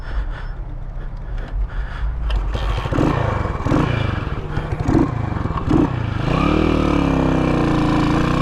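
A 1981 Yamaha SR500 single-cylinder motorcycle being kick-started with the choke on, several heavy thumping kicks before the engine catches and settles into a steady running rumble.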